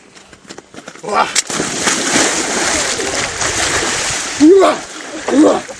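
Splashing and sloshing of someone stepping into icy water, broad, noisy bursts under ongoing voices, with a couple of louder surges near the end.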